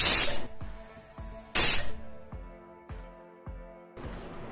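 Loud bursts of hissing steam from a pressure cooker whistle while cooking mushroom curry, released in two strong blasts with metallic clanks and rattles in between.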